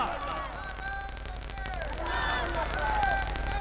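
A crowd at a Naat mushaira shouts back the takbir slogan in response to the poet's call. The voices are loud and massed, with overlapping shouts rising in waves and swelling toward the end.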